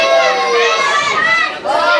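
A wrestling crowd at Captain Jack Daniels vs Tyler Rayne jeers and shouts in disapproval as a dense, loud mass of voices, dipping briefly before rising again.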